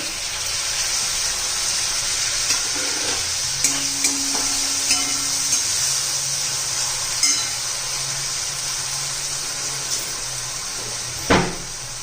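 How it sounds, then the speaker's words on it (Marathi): Chopped tomato is stirred into a pan of frying chilies while cooking Malvani-style cabbage bhaji, giving a loud, continuous sizzle with scattered spatula scrapes and knocks, ending in one sharp clunk. "तर त्याच्यात आपण हा 1 टोमॅटो चिरून घेतलेला आहे, तो घालू"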